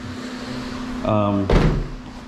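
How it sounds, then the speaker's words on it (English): A car door on a 1997 project car shutting with one firm, close thud, just after a short voiced sound. "The way the doors shut feel good."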